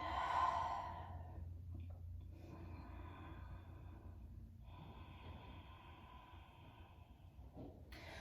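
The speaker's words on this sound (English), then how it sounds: "And then breathe." Slow, steady breathing during a slow-flow strength yoga session, opening with a loud sighing exhale and continuing as soft, airy breaths over a low background hum, with no talking.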